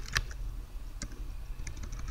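Computer keyboard typing, a few sparse, quiet key clicks spaced irregularly over a faint room hum, close and with no talking.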